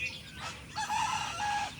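A rooster among free-ranging native naked-neck chickens crows once at moderate distance, a drawn-out call with faint clucking around it and no talk.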